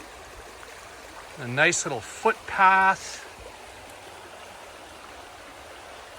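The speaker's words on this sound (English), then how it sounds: "And here's another pretty cascade." Water from a small waterfall cascade on a stream beside a footpath on the John Muir Way between Strathblane and Kilsyth, a steady low rush heard throughout under brief talk from a nearby person.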